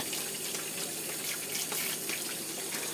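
Water sprays steadily over a stovetop pressure cooker, cooling it quickly with its jiggler still on, giving a constant hissing splash with no pauses and no voices.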